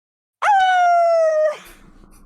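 A voice imitates a canine howl, one sustained, steady, close tone lasting about a second that breaks off abruptly, followed by faint room noise.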